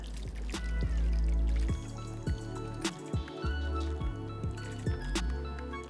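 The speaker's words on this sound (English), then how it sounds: "And this just gets poured straight over my pieces of short rib." Massaman curry sauce with coconut milk is poured over short rib pieces in a kitchen, giving soft liquid trickles and drips with a few light taps and squishes, close and fairly quiet, with no talk.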